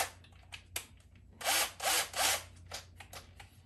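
A power drill fitted with a larger bit bores a pilot hole for hanging a shelf, sounding as several close, rasping bursts of grinding that start and stop in quick succession, with no talking.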